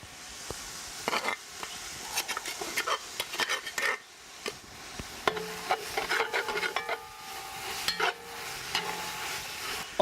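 Spices being stirred into browned onions in a pot for a Creole cassoulet, with soft scraping and clinking strokes over a faint sizzle, close and quiet, no talk.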